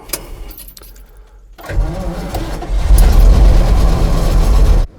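A military training vehicle's engine cranks and catches after a key rattle, rising into a loud, deep, rumbling idle that holds steady for several seconds before cutting off abruptly.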